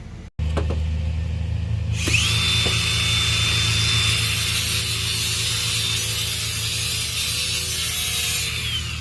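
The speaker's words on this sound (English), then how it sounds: "I'm just going to countersink some holes in here for the screws to hold the shelves up" A power drill spins up with a 5/16 bit to countersink screw holes in wooden shelves, a sustained high whine after a few brief knocks. It runs steadily for over six seconds, then stops.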